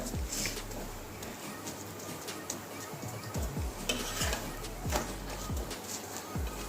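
Sweet potato paratha frying in oil on a pan, a soft continuous sizzle under repeated scraping and tapping from a spatula, close and fairly quiet.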